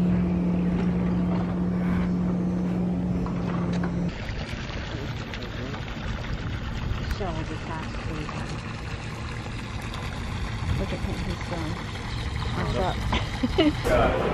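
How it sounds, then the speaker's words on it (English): A patrol boat motors across a lake at a resort campground, a steady low engine drone blended with wind buffeting the microphone, while people talk nearby. "There goes a Gator patrol boat"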